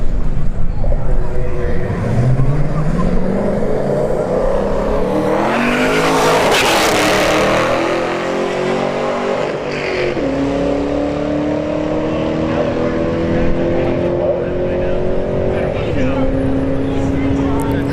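A Camaro SS and a Subaru WRX launch side by side at a drag strip test-and-tune night, engines revving hard and rising through gears with tire noise, loud and close, while an announcer talks over the racing.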